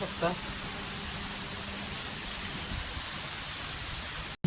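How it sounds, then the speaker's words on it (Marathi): Heavy rain falls steadily on a village, a dense, even hiss filling the scene from start to finish, with a brief voice near the start and a sudden cut near the end. "लय पाऊस जाम आहे तिकडं. खूप पाऊस पडत आहे."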